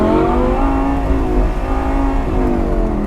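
A Lamborghini Gallardo engine revs hard under acceleration, a loud, dense roar of rising and falling harmonics sustained steadily for about three seconds, with no voices over it.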